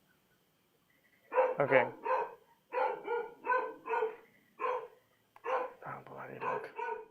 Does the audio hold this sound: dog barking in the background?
yes